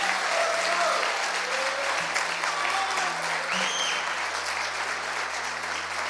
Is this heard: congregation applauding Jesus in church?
yes